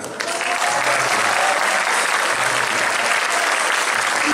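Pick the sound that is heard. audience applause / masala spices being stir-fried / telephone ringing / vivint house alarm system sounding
audience applause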